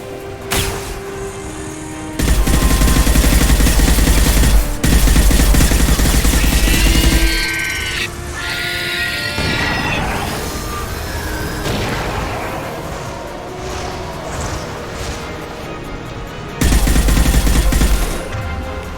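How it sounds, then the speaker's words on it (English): Loud, heavy high-impact gunshots in Mass Effect Legendary Edition, fired in a few dense bursts with booming tails and lighter combat noise in between, no talk over them. "Firing a high-impact shot."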